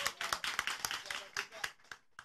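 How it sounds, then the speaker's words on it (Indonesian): A live audience at an outdoor gathering in Garut claps in quick uneven bursts, sharp close hand claps that thin out toward the end. "Tepuk tangan yang masih mau."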